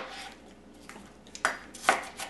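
A knife chops garlic finely on a board with a few sharp, separate cuts that grow louder toward the end over quiet room tone.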